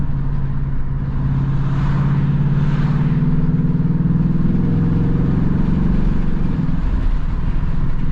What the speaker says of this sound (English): So we're in track mode on the exhaust right now.